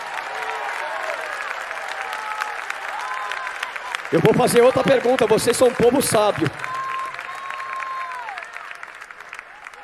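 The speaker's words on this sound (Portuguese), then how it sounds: "Bate palma, agora ninguém quer aplaudir mais." A church congregation claps throughout, with a steady layer of applause under and around a preacher's voice, which speaks loudly in the middle.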